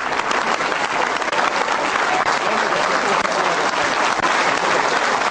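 Steady, dense applause from a large crowd, loud and continuous throughout with no pauses.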